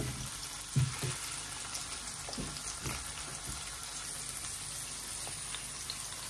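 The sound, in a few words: pumpkin frying in a pan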